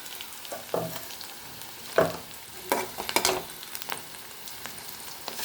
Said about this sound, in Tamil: தக்காளி வதங்கி போடணும் போட்டு நல்லா வதக்கணும்